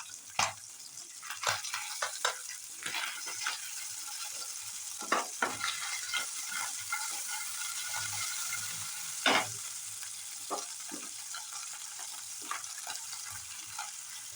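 Tangra fish frying in hot oil in a pan, with a steady dense crackle broken by sharp, loud pops and spits throughout and no voices.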